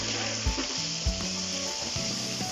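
Chopped onions and green chilies fry in oil in a wok for a taro and fish dish, giving a loud, continuous sizzle with a few sharp scraping knocks of a spatula against the metal.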